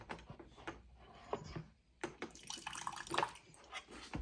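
Water poured into a smoothie at home, a faint trickle and splashing in short bursts with small drips, quiet and close, no talking.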